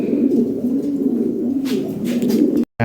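A pair of Toy Lahori pigeons on eggs coo in a low, steady, throaty rolling drone, close and continuous, ending with a brief cut.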